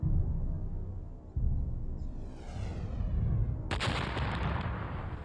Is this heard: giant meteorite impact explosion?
yes